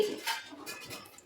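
A metal lid set down on a pot of Kerala-style yellowfin tuna fish curry, making a short close clatter of pan and cutlery-like clinks, then a few fainter metallic touches.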